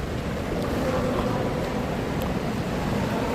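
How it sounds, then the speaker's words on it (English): Ocean waves rock a kayak at the mouth of the Painted Cave in the Channel Islands, a continuous close wash of water and surf with wind buffeting the microphone, and no voices. "We're being pushed backwards some by the force of the waves."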